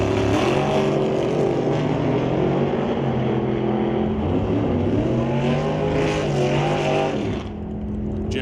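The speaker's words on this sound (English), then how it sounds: "1931 Model A facing off against a much more modern Cameron dragster" A 1931 Model A and a modern Cameron dragster racing at a drag strip, loud engines roaring and rising in pitch as they pull away, sustained with a drop near the end.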